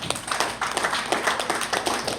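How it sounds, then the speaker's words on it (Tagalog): Guests at a church fellowship birthday celebration in Tagbilaran give a short round of clapping, a quick, fairly close patter of hand claps lasting about two seconds. "Tagaan sa masipang palakpak."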